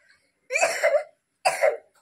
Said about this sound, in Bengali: দেখেছো কি কাশি হয়েছে?